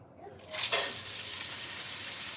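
Onions and carrots hit a hot pan for shrimp fried rice, bursting into a loud, steady sizzle about halfway through that holds on, close and bright, with no talking over it.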